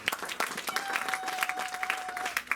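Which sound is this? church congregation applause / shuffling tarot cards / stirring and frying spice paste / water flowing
church congregation applause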